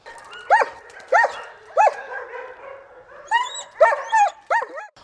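Several dogs bark in short, sharp bursts close by at a canine training centre in Osh, Kyrgyzstan, some yips and whimpers mixed in, with brief quiet gaps between barks.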